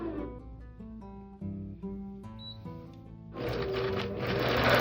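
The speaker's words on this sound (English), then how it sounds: "It's gonna move to the start point and begin sewing for me." Computerized quilting sewing machine stitching a quilt block, first a stepping, pitched whirr as it moves into position, then a louder, fast steady needle clatter running to the end.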